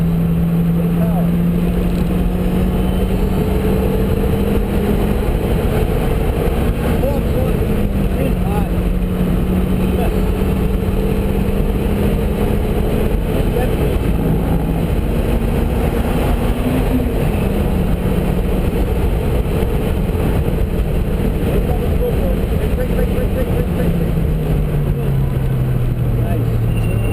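Car engine droning loudly inside the cabin on a racetrack, pitch rising and falling as it accelerates, brakes and shifts down, a constant close roar with people talking over it.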